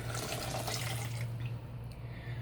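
Boiling water poured into gelatin for a homemade gel printing plate, a steady close liquid pour running for most of the stretch before easing off near the end.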